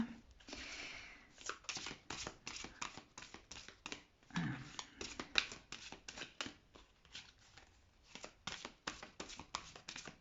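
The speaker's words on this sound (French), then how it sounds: "je suis poussée de l'intérieur à battre les cartes" Oracle cards being shuffled by hand, a steady run of quick papery riffles and soft slaps that carries on throughout with brief pauses, close and fairly quiet.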